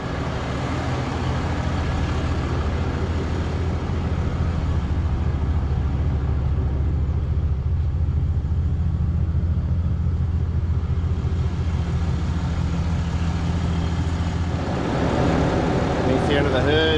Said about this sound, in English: 22 motor just seems really quiet. It's a little bit quieter. Sounds a little better insulated.